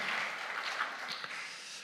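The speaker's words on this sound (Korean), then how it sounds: "박수로 환영하겠습니다" Congregation members in a church clap to welcome a visitor, a brief, dense patter of applause heard from a short distance, with no speech over it.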